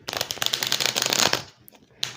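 Oracle cards being shuffled by hand at close range, a dense run of crisp riffling and sliding rustles for about a second and a half, then a quiet pause and one final soft flick.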